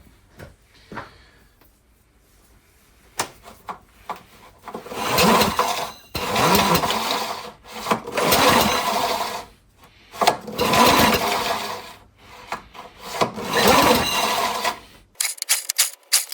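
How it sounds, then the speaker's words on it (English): Recoil starter rope on a Honda HRB 423 lawn mower yanked in several long rasping, whirring strokes at close range, with short pauses between pulls and the engine never catching. "Then we can give it a good few pulls on the pull start."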